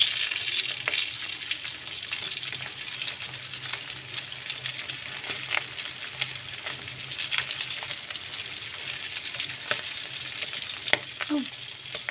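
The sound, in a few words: frying tinapa (smoked fish) in a pan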